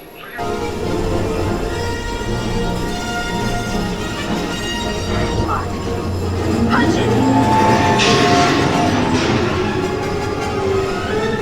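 Space Mountain ride at Disneyland, rumbling and roaring steadily throughout with rattling track noise, swelling louder toward the end, with voices in the background.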